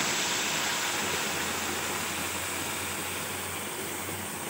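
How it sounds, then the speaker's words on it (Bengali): Water pouring into a fish and vegetable curry in a pot, a steady broadband rushing splash held loud and close for several seconds, easing slightly toward the end. "এখন দিয়ে দেবো জল, পরিমাণ মতো একটু জল দিয়ে দেবো।"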